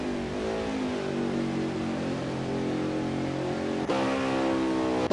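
Xfinity Series race car at Watkins Glen, engine held wide open in a loud, steady high-pitched drone with harmonics sliding in pitch as revs shift, a sharp gear change near the end.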